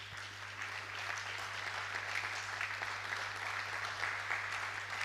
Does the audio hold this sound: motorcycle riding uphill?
no